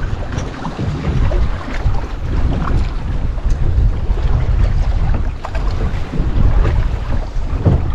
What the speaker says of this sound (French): maintenant il y a beaucoup plus de vent, ça devient difficile